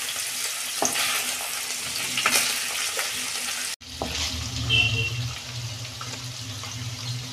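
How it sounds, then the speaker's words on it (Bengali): Paneer frying in hot oil in a wok, a continuous close sizzle broken by a few clicks and stirring scrapes, with the frying briefly dropping away and then resuming steadily. "আমি পনিরগুলো এবার ভাজবো।"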